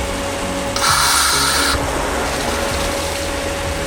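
A Jandy pool pump hums steadily while the system primes, with a low constant drone and a brief brighter mechanical whir in the first half, near and alone.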